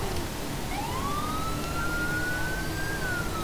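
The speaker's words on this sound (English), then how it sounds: "Go ahead, turn the siren off." A police siren in the video game GTA 5 wails with a rising, sustained tone over a constant engine and road noise, fairly close.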